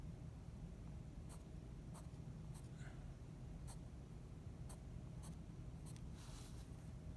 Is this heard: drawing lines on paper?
yes